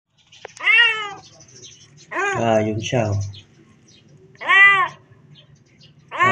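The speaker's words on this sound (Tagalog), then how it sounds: "Tawa naman yung pusa." A trapped kitten meows loudly and close, four or five plaintive cries coming one after another with short gaps, while a person speaks briefly between them.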